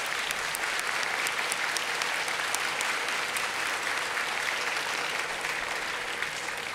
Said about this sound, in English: give our nation's hardworking healthcare workers a big round of applause